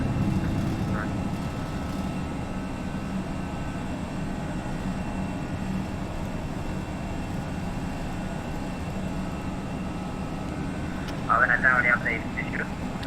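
Airbus A321 jet engines at climb thrust in a flight simulator during departure from Washington National, a steady loud roar throughout with a brief burst of voice near the end.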